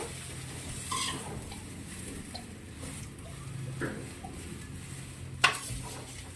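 Sinangag, Filipino garlic fried rice, is stirred in a pan with faint scraping strokes over a low sizzle, ending in one brief, sharper clink of the utensil against the pan.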